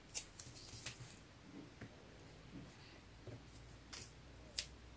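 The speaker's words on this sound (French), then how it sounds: "je vais couper des petites bandes comme ça" Scissors cut small strips of paper, sharp snips spaced out at an irregular pace, close and quiet, with faint rustling between the cuts.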